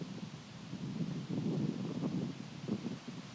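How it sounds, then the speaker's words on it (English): Strong wind gusting through tree leaves outdoors at a disc golf course, a continuous rushing rustle that swells and fades, with no talk. "it's a lot of wind today. Look at those leaves gusting out of the trees"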